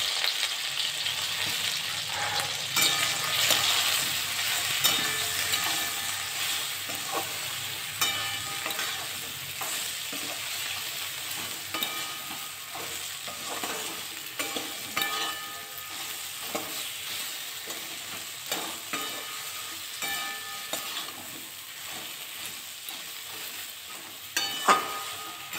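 Jujubes frying in a pan with salt and turmeric to cook off their water for a sweet pickle, a continuous crackling sizzle, busier at first and settling lower, with occasional utensil scrapes and knocks and a sharp clack near the end.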